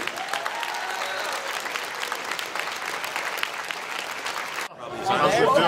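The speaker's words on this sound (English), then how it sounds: "One more round of applause for our 3x3 speed solve winner and our new national champion, Andrew Ricci." Audience applauding a new national Rubik's Cube 3x3 speed solve champion at a competition finals, steady dense clapping for about five seconds before a brief dip and a louder burst of cheering and voices.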